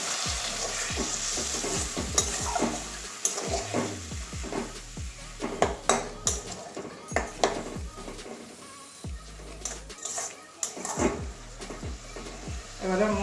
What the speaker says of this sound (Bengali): জল দিয়ে মশলাটাকে কষিয়ে নেব।